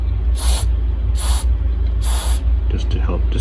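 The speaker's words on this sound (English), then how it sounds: "I'm just going to spray it with some of this penetrating oil" Penetrating oil hisses from a spray can in three short, sharp bursts, close and evenly spaced, over a low steady rumble, with a brief clatter at the end.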